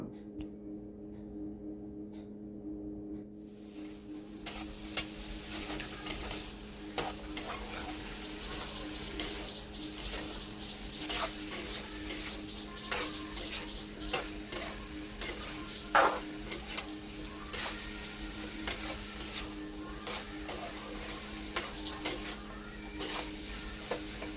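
Jackfruit curry with tomato is stirred and fried in a pan, a steady sizzle under a low hum, broken by repeated spoon scrapes and taps at an irregular pace.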